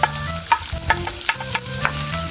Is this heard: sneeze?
no